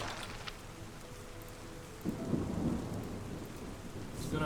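Rain and rolling thunder in the video game Terra Nil, a steady wash of rainfall with a low rumble of thunder swelling about halfway through and lingering to the end, with no talking.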